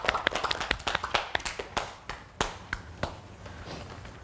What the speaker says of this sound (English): It's weird why we all clap.